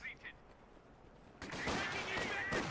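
A Vickers machine gun firing in Company of Heroes 2, a sudden rapid burst of gunfire with sharp repeated shots that starts after a quiet lead-in and continues to the end.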